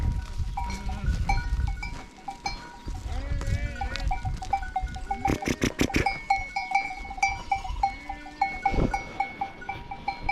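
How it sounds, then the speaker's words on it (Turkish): A flock of sheep on pasture during ram mating season, with repeated bleats near and far, clanking bells and scattered knocks, plus some faint human voices in the background. "Koyunların birçoğu koça gelmiş vaziyette."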